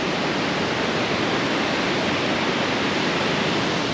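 Broadband, steady rushing roar of a waterfall at Lake Como, Italy, loud and close with no pauses, filling the whole stretch without any voices over it.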